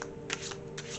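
Tarot cards being shuffled by hand, a quick riffling flutter in two or three short bursts, close and clear with no talking.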